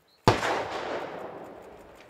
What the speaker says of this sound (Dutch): Voordat de bom tot ontploffing wordt gebracht